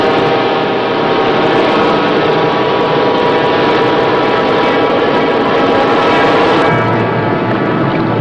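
Submarine engines running under overload, a loud continuous mechanical roar and throb with a steady low rumble, holding level throughout and dropping slightly in its lowest tone near the end.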